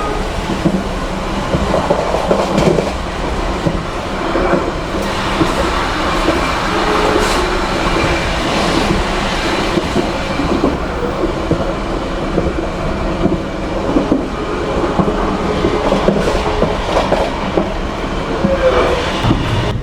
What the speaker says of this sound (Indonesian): sebentar lagi kita melintas langsung stasiun Bayuman dan akan bersilang dengan kereta api Jen Express